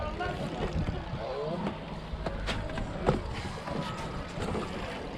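A felucca sailboat ride on Lake Burullus in Egypt: wind and water wash against the small wooden boat, with scattered knocks and creaks, while people talk over it throughout.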